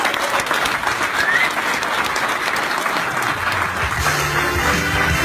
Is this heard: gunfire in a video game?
no